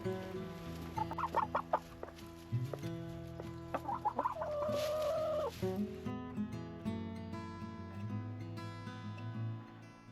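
Chickens on an Alaska homestead cluck and call in short bursts over a steady background drone, faint and somewhat distant.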